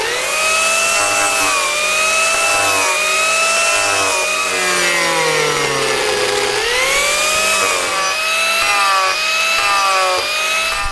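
An Arbortech TurboPlane carving disc grinds across the bottom of a wooden tray, a loud sustained whirring rasp that rises and falls in pitch as the tool is swept back and forth.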